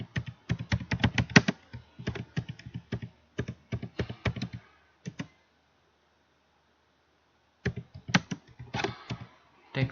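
Fingers type on a computer keyboard while entering text in MS Word, fast bursts of close key clicks, a pause of a couple of seconds, then another run of typing.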